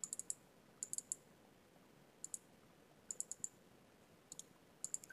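Computer keyboard keys clicked in short bursts of two to four quick taps, separated by pauses, close and fairly quiet, with no voices.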